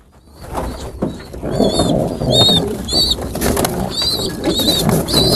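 French meat pigeons in a loft give close, loud cooing mixed with repeated high squeaky calls over constant rustling and shuffling.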